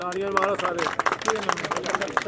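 A crowd at a kabaddi match prize ceremony claps in dense, steady applause, with an announcer's voice speaking over the clapping throughout.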